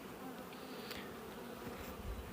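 Honey bees buzz at a hive in a dense, continuous drone, close and steady, with individual bees whining past now and then and no voices.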